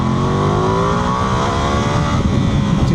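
A Ducati Multistrada V2S 2025 motorcycle engine accelerates hard, its loud close drone climbing steadily in pitch over a few seconds, heard alone without talking.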